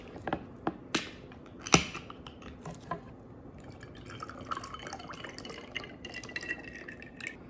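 Pineapple juice is poured into a tequila drink, with soft splashes and drips, a few sharper clinks at the start, then a gentle continuous trickle, close and quiet.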